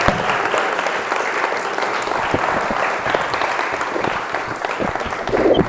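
A concert audience at a spiritual gathering claps in sustained, dense applause throughout, loud and close, without a break.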